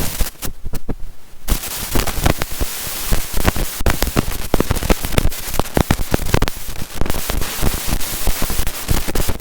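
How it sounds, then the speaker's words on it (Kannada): Dense, rapid bursts of firecrackers crackle and bang continuously in the early morning, sharp loud pops overlapping into a harsh roar with no pause. "ಬೆಳಬೆಳಿಗ್ಗೆ ಹೊತ್ತು ಪಟಾಕಿ ಹೊಡಿತಿದ್ರೆ ಡಮ್ಮ ಡಮ್ಮ ಡಮ್ಮ ಅಂತವ"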